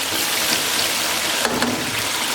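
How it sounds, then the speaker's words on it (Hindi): Water pouring steadily into a pot of potatoes, peas and rice, a continuous splashing rush with a brief clatter near the end. "अब इसमें पानी शामिल करेंगे।"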